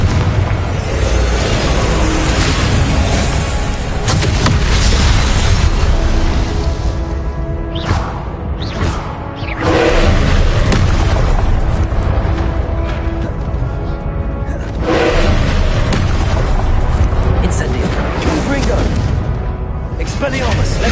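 Fire and explosive spells, Incendio and Confringo, cast in the Hogwarts Legacy video game: a run of heavy booming blasts and bursts, some separated by short gaps, over a loud, dense, continuous game soundscape.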